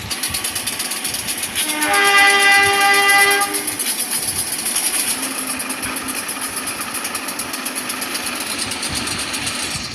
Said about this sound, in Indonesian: Lokomotif kereta api Siliwangi silakan melakukan perputaran haluan lokomotif.